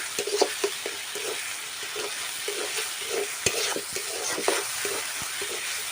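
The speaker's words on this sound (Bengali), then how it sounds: "তো মশলাটাকে আমি ভেজে নেব" Spice paste frying in a pan for a soybean curry: a steady sizzle overlaid with repeated scraping stirs from a spoon, close and fairly loud, with no voices.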